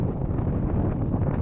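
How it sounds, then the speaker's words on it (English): Strong wind roars across the microphone beside a road on Iceland's south coast, a loud, steady low rumble filling the whole brief moment with no voices. "It's pretty windy. Woo, real windy."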